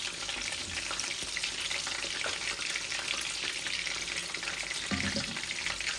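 Chicken frying and being stirred in a pan for a minced-meat biryani dish, a steady soft sizzle with occasional scraping stir sounds, close and fairly quiet with no talk.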